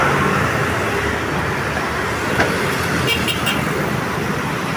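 Busy road traffic with many motorists crowding the street near an airport, a steady broadband engine and tyre roar with a few brief horn toots near the end.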